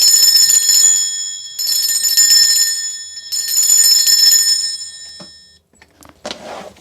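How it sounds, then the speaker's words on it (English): A handheld bell rung to cleanse a space, struck in three long sustained bursts of bright shimmering tones, loud and close, followed by a few softer brief knocks and rustles. "I'm going to be ringing this bell just to cleanse the space around us."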